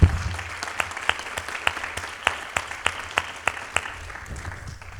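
Audience applause at a nonprofit awards ceremony greets an award recipient coming to the stage: sparse, fairly faint claps with a few sharp individual hits standing out, steady for several seconds and tapering at the end.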